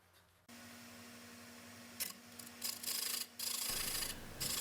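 A round nose scraper takes tiny cuts across the inside of a wooden bowl on a lathe, carving concave rings, giving a steady scraping rasp over a low motor hum, with brief louder bursts of cutting near the end.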